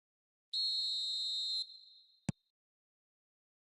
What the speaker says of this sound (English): Whistle's gone, that's foul.